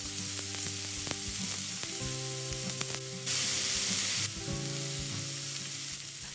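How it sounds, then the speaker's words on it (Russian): Onion frying in oil in a pan over medium heat for a stewed cabbage dish: a steady close sizzle throughout, swelling into a brighter, louder hiss briefly midway, with faint stirring clatter and a background hum. "В сковородку наливаем масло и поджариваем на среднем огне лук, помешивая до легкой румяности"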